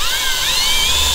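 A power drill drives a self-tapping screw into metal during a fuel gauge repair on a Mazda Bongo, giving a loud, continuous high-pitched whine whose pitch rises and falls slightly throughout.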